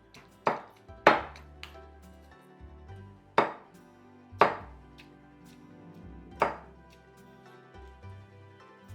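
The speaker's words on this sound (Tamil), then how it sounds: "இப்போது நம்ம இந்த சிக்கனை வந்து கொஞ்சம் நல்லா இடிச்சே போட்டுக்கலாம்." Chicken pieces being pounded in a mortar for maargandam soup, five or six sharp, separate thuds at an irregular pace, each ringing briefly, with soft handling noises in between.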